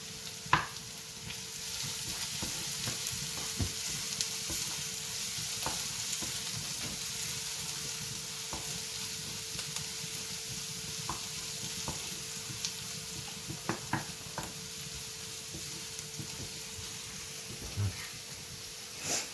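Fish rolls frying in a pan of oil give a soft, steady sizzle that runs throughout, with faint scattered pops and a few light clicks, fairly quiet and close, with no talking.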